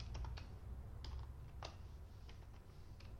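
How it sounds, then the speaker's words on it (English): Computer keyboard typing while setting up a TypeScript web project, a steady run of close, crisp key clicks in short bursts over a low background hum, with no talking. "let's type anything like console"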